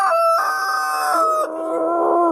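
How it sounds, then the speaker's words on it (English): A rooster crows loudly and close by in a Minnesota backyard tractor shed on a mild day, its long drawn-out cry wavering in pitch with a second crow overlapping, while no one speaks. "Chickens are so happy."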